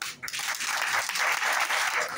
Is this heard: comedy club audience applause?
yes